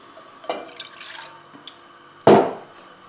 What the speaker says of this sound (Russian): Берем полстакана воды.